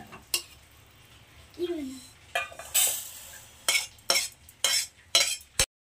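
Roasted moong dal is scraped and tipped from a pan into another pot, with a series of metal scrapes, clinks and rattling pours in uneven bursts.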